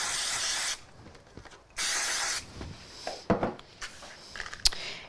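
A spray bottle mists onto a textured steampunk card frame in three short hissing bursts, close and clear, with light handling and tapping sounds between the sprays.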